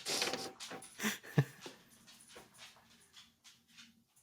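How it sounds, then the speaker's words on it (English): A dog whimpers and pants close by, high whines at first and then quick rhythmic breaths that fade and settle into a soft steady panting. "tell that dog to calm down"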